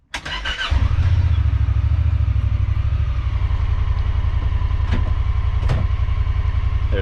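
A new side-by-side UTV engine starts with a brief crank, then settles into a loud, steady low rumble with a pulsing idle, close by and alone, running while set to high 2-wheel drive.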